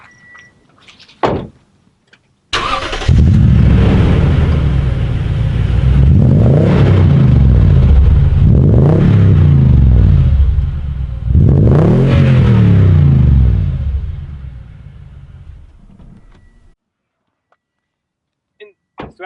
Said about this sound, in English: So we'll do it from startup and we'll do some revving